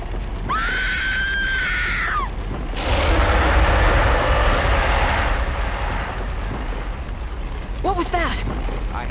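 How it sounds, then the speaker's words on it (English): A woman screams in Peter Jackson's King Kong (2005) video game, with a long sustained high wail first, then a burst of loud roaring noise, and a shorter wavering shriek near the end. "We'll start with some screams."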